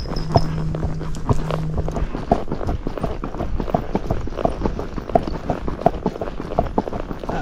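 Missouri Fox Trotter mare's hooves in rubber endurance shoes walking down a paved road, a steady, even clip-clop of dull, muffled hoofbeats repeating close by throughout.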